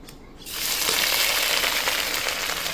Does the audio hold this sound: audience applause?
no